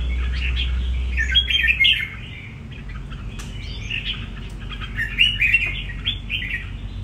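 A red-whiskered bulbul sings in bright, close bursts of warbling, chirping phrases, pausing briefly between them, with a low steady hum underneath.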